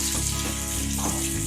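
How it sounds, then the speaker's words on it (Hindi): Pea mixture for puff patties roasting in a pan, a dense continuous sizzle and frying crackle heard up close for a brief moment, with no voices. "इसको मैं अच्छे से भून लूँगी"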